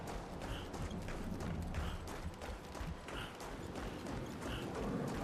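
Pony hooves clip-clop in a steady rhythm through a dense, busy game soundtrack in Clair Obscur: Expedition 33, loud and continuous throughout.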